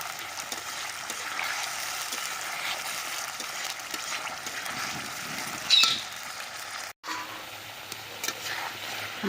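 A spice paste sizzles and spits in hot mustard oil in a pan on a clay oven, a steady close frying hiss with a brief sharper burst midway and a short dropout near the end.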